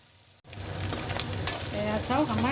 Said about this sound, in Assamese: এয়া মিঠাতেল গৰম হৈ গ'ল আৰু এতিয়া ইয়াতে মই মিছা মাছখিনি দি দিছোঁ।